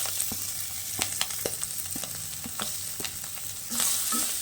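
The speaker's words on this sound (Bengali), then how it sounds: "এবার দেব সেই ভেজে রাখা পেঁয়াজ আদা রসুন শুকনো লঙ্কা কাঁচা লঙ্কা সব এতে অ্যাড করে দিই" Fried onion, ginger, garlic and dried and green chillies tipped into a pan with fried bitter gourd, frying with a steady sizzle and scraped by a spatula in repeated sharp strokes, close and alone.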